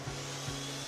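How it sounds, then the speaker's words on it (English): Wood being sawn to size for a frame during a home renovation, heard as a close, steady rasping with two brief swells in the strokes over a faint background hum. "then cut the wood to size"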